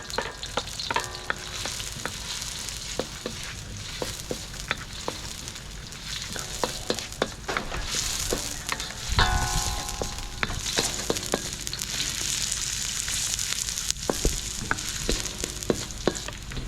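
Garlic fries in a pan with a continuous sizzling hiss, punctuated by frequent clicks and scrapes of a spatula stirring, plus a louder clatter midway.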